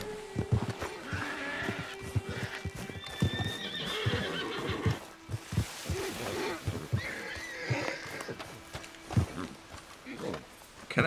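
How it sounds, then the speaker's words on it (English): Horses in the Red Dead Redemption 2 game clop their hooves and whinny nearby, with sharp hoof strikes scattered throughout, several drawn-out neighs rising above them, and someone talking intermittently in between. "There's some horses over there."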